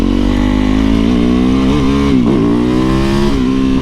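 A motorcycle runs loud and close for a few seconds of hooligan-style riding, its engine droning steadily with slight rises and dips in pitch as the throttle shifts.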